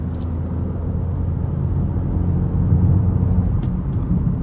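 A tuned Abarth 500 with a 1.4 T-Jet engine is driven, giving a steady low engine drone and road rumble from inside the cabin. The tone swells slightly midway as the car accelerates.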